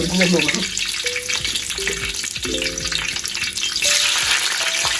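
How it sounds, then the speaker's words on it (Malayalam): Mustard seeds, curry leaves and ginger sizzle and crackle in hot oil for a pickle made with homegrown rose apples, a steady close frying hiss with popping bursts and some stirring, while a voice talks over it. "കടുക് ഇട്ട് കൊടുത്ത് വേപ്പില ഇടുവാണ് ഇഞ്ചിയാണ്"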